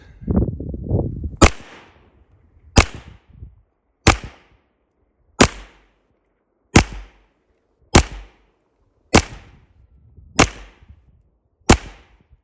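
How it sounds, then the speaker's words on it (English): An AKM 9.5 mm (366TKM) rifle fires rubber BB rounds at an outdoor range: sharp, loud single cracks spaced about a second and a quarter apart, each trailing a short echo, after brief handling noise. "I'll shoot it at 5 meters to the top of the target."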